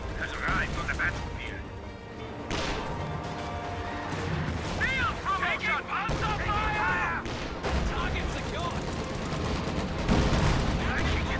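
Steady WWII strategy-game battle gunfire, with machine-gun rattle, scattered shots and heavier artillery-like thumps, runs throughout. A commentator talks continuously over the fighting.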